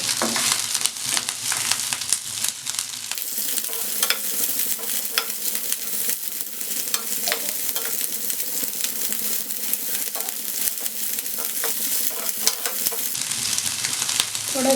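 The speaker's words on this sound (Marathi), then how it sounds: "आता आपण यात जो भाजीमध्ये टाकणार आहे तो कांदा घालणार आहे, तो पण थोडासा परतून घेऊ।" Onion and capsicum stir-fried in a kadai for kadai paneer: a loud, continuous close sizzle with constant stirring scrapes throughout, and no talk.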